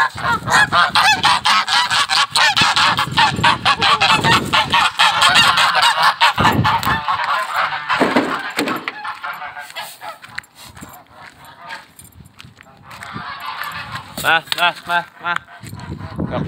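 Farm geese, which keep the hens from coming out of their coop, honk loudly and almost continuously in a close, raucous chorus, with some quieter stretches toward the end.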